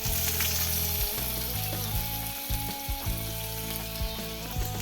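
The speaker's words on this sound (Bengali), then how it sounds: "এখানে আমার আলু ভাজা অলমোস্ট কমপ্লিট হয়ে গিয়েছে, লাল লাল হয়ে গিয়েছে" Potatoes frying in hot oil in a pan, browned and nearly done, give a dense continuous sizzle with a few soft scrapes of stirring, close and steady, with no talking.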